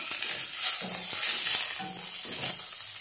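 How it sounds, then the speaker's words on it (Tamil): Curry leaves sauté in oil in a pan over low flame, a soft close sizzle with a few spoon scrapes and light clatters, no one speaking. "கருவேப்பிலை இனியும் போட்டு நல்லா வதக்கிடலாம்"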